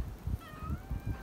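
Several cats meowing while eating from a shared plate, with a few rising meows in the middle over repeated soft chewing and lapping noises, close by and moderately loud, no talking.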